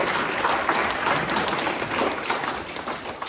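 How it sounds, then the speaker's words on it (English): A crowd at a 70th wedding anniversary celebration claps and applauds steadily and densely throughout, a continuous wash of hand claps with no talking over it. "So huge round of applause for the people that put it together."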